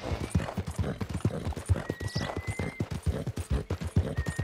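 Rapid, rhythmic hoofbeats of a galloping horse in the video game Red Dead Redemption 2 pound steadily throughout, with faint high tones ringing over them.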